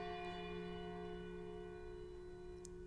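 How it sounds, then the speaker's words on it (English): Village bell pealing in the video game Lost Odyssey, a sustained ringing tone with a clear shimmering resonance that hangs steadily and fairly quietly throughout, with a faint extra strike near the end. "The village bell begins to peal, reverberating with utter clarity through the distant mountains,"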